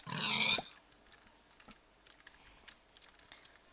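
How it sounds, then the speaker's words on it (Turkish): A loud, short pig oink at the start in Minecraft, then quiet game ambience with soft scattered taps and footsteps. "Bir tane domuz var. Domuz sesi geliyor."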